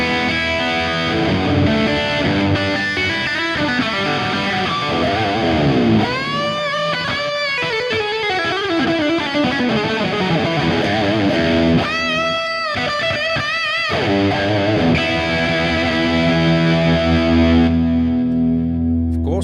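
Electric guitar played through a Fractal Axe-FX III with the boost switched on: loud, saturated distorted riffs with sustained bent notes and quick runs, a brief pause near the middle, then ringing chords that fade out.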